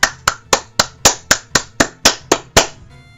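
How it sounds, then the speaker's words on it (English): One person claps their hands in applause, about ten sharp, evenly spaced claps close to the microphone, then stops. "That's me applauding you"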